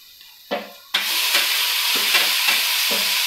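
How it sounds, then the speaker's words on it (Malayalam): Chopped tomato dropped onto browned onion in a hot pan for rasam, a sudden loud sizzle that stays steady and bright, with a few soft stirring scrapes pulsing through it, close and alone. "ഇതിലോട്ട് നമുക്ക് തക്കാളി ഇട്ട് കൊടുക്കാം."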